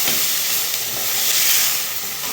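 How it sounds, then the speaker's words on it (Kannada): Sliced onions fry in oil in a pan, giving a steady, close, bright sizzle with a constant hiss and no voices. "ಇವು ಚೆನ್ನಾಗಿ ಎಣ್ಣೆಯಲ್ಲಿ ಫ್ರೈ ಮಾಡ್ಕೋಬೇಕು"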